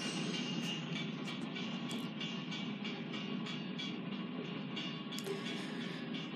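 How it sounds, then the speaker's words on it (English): Train rumbling past as a continuous broadband roar with scattered metallic clicks and squeals, heard from some distance at a steady, moderate level. "Oh look, there's a train!"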